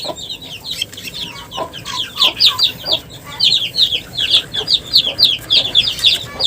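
A broody hen clucks steadily among her chicks and guinea fowl keets, with rapid repeated high chirps and peeps from the young birds over low clucking, close and continuous.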